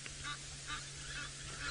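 Geese honk repeatedly during an early-morning safari drive, several short nasal calls spaced evenly and fairly distant over steady vehicle or wind noise.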